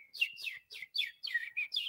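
Small bird chirping in the background of a Zoom call, six or seven quick bright tweets in an even run, fairly faint with short gaps and no voices.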